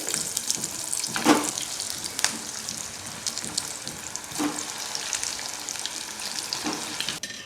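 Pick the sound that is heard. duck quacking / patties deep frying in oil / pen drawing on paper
patties deep frying in oil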